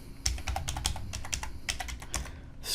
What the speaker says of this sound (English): in the search box type WooCommerce